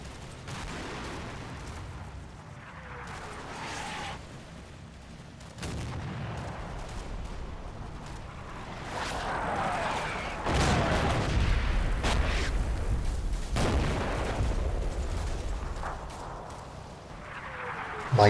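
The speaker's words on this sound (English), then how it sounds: "the 25-pounder barrage falls on the western side of objective Donjon" A 25-pounder artillery barrage rumbles in the Combat Mission wargame, set in Operation Epsom near the Odon bridges, with low, continuous booms and distant impacts rolling on and off. A narrating voice speaks over it at times.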